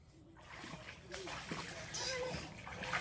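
A child splashes and jumps about in water on a cold day, with uneven sloshing bursts throughout while a voice and an adult's talk mix in over the splashes.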